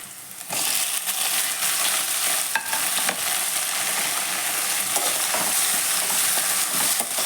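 Onions, ginger and garlic sautéing in a pan for paneer butter masala, a steady loud sizzle running throughout with occasional scraping stirs of a spoon against the pan.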